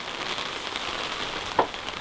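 Steady rain patters and hisses on a surface during a mountain storm while overlanding, an even close wash of drops with one brief louder tap near the end.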